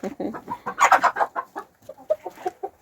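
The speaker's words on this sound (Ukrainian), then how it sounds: "Ось такі кури. Це півник маленький." Hens cluck and chatter close by in short bursts, with a young rooster's higher calls mixed in, in an irregular farmyard rhythm.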